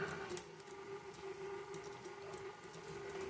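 A stand mixer whirs steadily on its low stir setting while mixing maple snickerdoodle dough, a constant close motor hum with a faint tonal whine and no talking.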